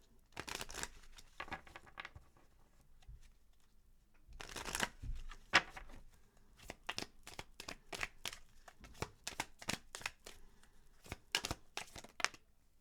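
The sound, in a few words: shuffling Angel of Abundance oracle cards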